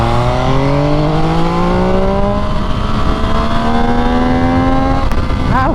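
An MV Agusta Brutale 800 RR three-cylinder motorcycle revs close up, its engine note climbing steadily in pitch over several seconds before a sharp blip and quick crackle at the end, loud and with no talking.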